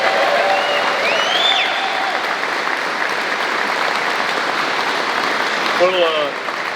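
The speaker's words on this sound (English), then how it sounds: "a round of applause, our national champion cheerleaders over here and our band in the back" Crowd applause at a college football press conference for national champion cheerleaders and the band, a steady wash of clapping with faint cheers and whoops rising over it, and voices briefly audible within.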